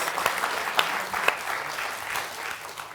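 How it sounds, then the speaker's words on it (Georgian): A studio audience at a Georgian television comedy contest claps in a brief, dense burst of applause that fades slightly toward the end. "გავაგრძელოთ აპლოდისმენტები ზურას."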